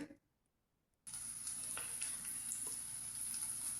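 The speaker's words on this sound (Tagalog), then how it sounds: "Then, isasangag na natin yung kanin." Cooked rice frying in a little oil in a pan for fried rice, a steady bright sizzle that starts abruptly after a short silence, with faint stirring clinks scattered through it.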